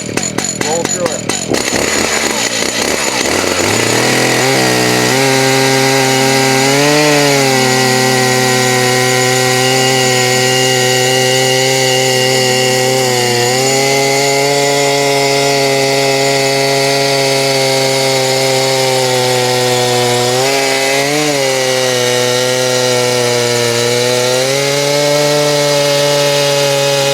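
Chainsaw with a freshly sharpened chain milling a cedar log into squared beams, a loud, steady engine whine that holds for long stretches with brief dips and revs as the cut progresses.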